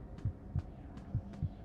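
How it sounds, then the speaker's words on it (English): Heartbeat in the video game FNaF: Into the Pit: four dull, low thumps in two paired beats, close and steady over a faint hum, with no talking. "Our heartbeat's getting faster."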